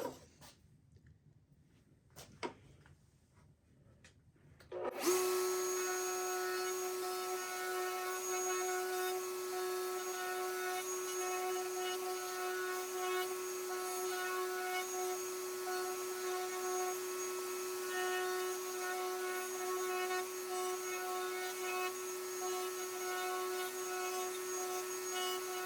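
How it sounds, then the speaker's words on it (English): A router table fitted with a roundover bit rounds the edges of square wooden knobs. After a few quiet seconds the motor starts, then a loud steady whine with tonal hum holds for about twenty seconds. "we've got our roundover bit and our router table, and we've got the height set"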